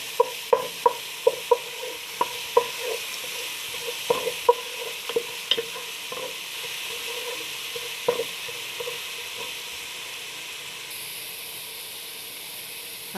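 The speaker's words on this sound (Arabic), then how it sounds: "جبنا بقى حطينا كده الثوم عشان نعمل الصلصة بتاعتنا." Garlic frying in a pan for koshari sauce while being stirred, a constant soft sizzle broken by repeated sharp scraping clicks of the spoon against the pan, close by, with no voices.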